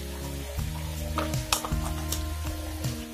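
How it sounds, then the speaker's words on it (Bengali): Snake gourd frying in a pan, a steady close sizzle with a spatula scraping and stirring in repeated strokes, no voices. "লবণটা দেওয়ার পর আমি আবারও ভালোভাবে কষিয়ে নিচ্ছি।"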